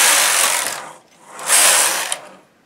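A Brother Bulky knitting machine carriage runs across the bed in two loud, close whooshing passes with a short pause between, ending in a small click.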